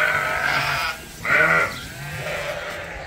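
Several sheep bleat loudly and close by in a pasture, with overlapping calls from more than one animal.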